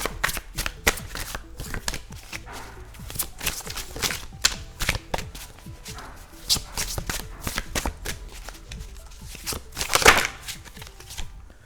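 Tarot cards riffled and shuffled by hand, a rapid run of papery flicks and slaps that swells into a louder burst near the end, close and alone with no talking.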